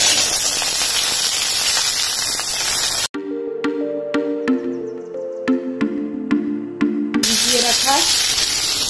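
Vegetables hitting hot ghee and oil with a bay leaf for dalia, giving a loud, bright sizzling hiss that breaks off for several seconds of tonal music before the frying returns.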